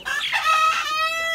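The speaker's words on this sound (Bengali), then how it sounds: "অনেকে বলে গলাছিলা মুরগি" A naked-neck chicken raised on a rooftop gives a single loud, drawn-out call close by, rising and tonal over about a second, with no talking.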